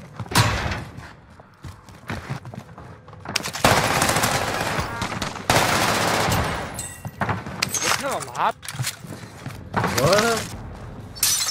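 M1 Garand rifle fire in a Warzone match on Rebirth Island, repeated loud sharp gunshots in bursts with clatter and effects, under intermittent talk.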